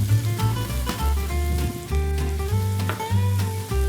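Tomato with chopped coriander and parsley sizzles steadily in a pan, a close, continuous frying hiss broken by a few scraping stirs, with no voices.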